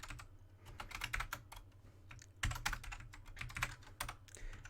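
Code is typed on a computer keyboard in quick irregular bursts of close, crisp keystrokes with short pauses, heard alone without talk.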